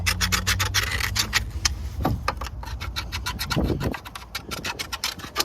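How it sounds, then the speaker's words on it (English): A tool scrapes the wheel bearing hub bore of a 2014-or-later Jeep Cherokee, giving rapid rhythmic rasping strokes, loud and close, that slow into separate scratches toward the end. "Now it's usually a good idea to scrape a little bit of this as well."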